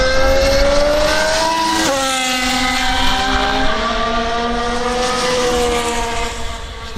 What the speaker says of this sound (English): no speed there for the Ferrari of Carlos Sainz.